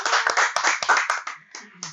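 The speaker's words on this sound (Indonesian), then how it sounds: "Tepuk tangan untuk kita semua." Hand clapping from a debate audience after a regional election debate in Aceh Singkil, a close, irregular burst of claps that thins out and trails off within two seconds.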